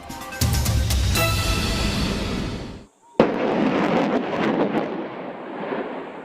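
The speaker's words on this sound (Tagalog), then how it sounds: "Dagundong yan mula sa pinaputok na High Mobility Artillery Rocket System o HIMARS ng Estados Unidos" A US HIMARS rocket launcher fires during a live-fire exercise in Nueva Ecija, giving a loud, sustained roaring blast that cuts off briefly and then returns as a long, rumbling roar fading into the distance.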